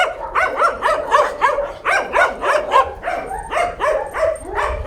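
Several dogs at a dog farm bark in a rapid, overlapping chorus, close and loud, with yips and whimpers mixed in, continuing without pause.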